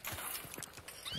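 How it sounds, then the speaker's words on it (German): Quiet horse hoofbeats clop in an uneven rhythm in the video game Hunt: Showdown, accompanied by a faint whinny, sounding thin and distant. "Hier ist ein Pferd."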